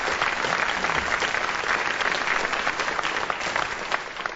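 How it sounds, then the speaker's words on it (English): A theatre audience at a radio panel game applauds with steady, dense clapping throughout, full and sustained without any voices on top. "Marks awarded as usual on the length of the applause from the audience here in the theatre."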